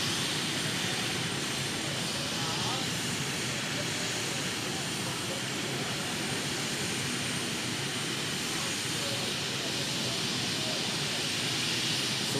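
A turbine-engined pulling tractor at a tractor pull in Füchtorf roars in a steady, loud, hissing jet-like whine that holds constant throughout.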